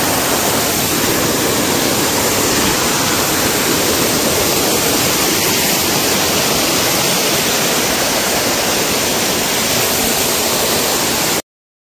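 Kurdkort waterfall in Deogarh, a steady, loud roar of falling water filling the whole time without a break, no voices over it.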